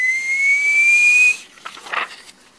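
A high, steady whistle like a tea kettle, rising slightly in pitch and holding for over a second before cutting off, followed by soft breathy noise. It is likely a voice imitating the kettle during a read-aloud story.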